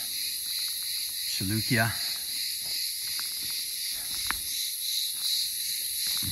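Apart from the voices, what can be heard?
insects chirping at ancient ruins, like crickets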